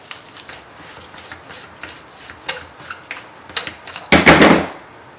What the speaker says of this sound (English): we need to unthread the bottom collar for the shock assembly